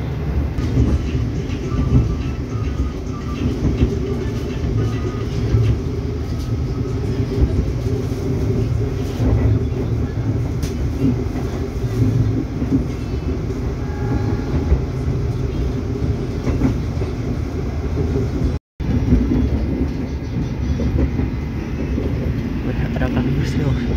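A KA Lodaya economy-class passenger train rolls steadily on its rails through Cicalengka station, a continuous loud rumble and clatter of wheels with a brief dropout near the end; talk is heard over the running noise.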